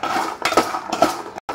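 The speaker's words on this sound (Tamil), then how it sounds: "இதை சேர்த்து நம்ம வந்து நல்லா மிக்ஸ் பண்ணி விட்டுக்கலாம்" Roasted cashews are mixed with chili powder and salt on a plate, giving a few close clinks and scrapes of a utensil against dishware, brief and fairly loud.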